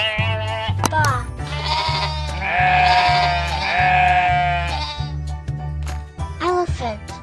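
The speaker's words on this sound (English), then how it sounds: "Sheep's baa." Sheep bleating in a short animal-sound sequence: a few drawn-out, wavering baas in the middle over a steady low hum, alone with no talk.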